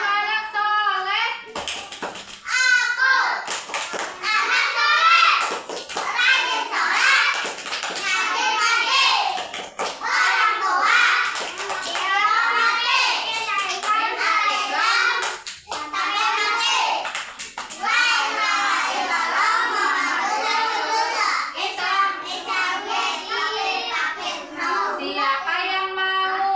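Young children in a classroom chant the Tepuk anak soleh rhyme together and clap along in rhythmic bursts, their voices loud and close throughout.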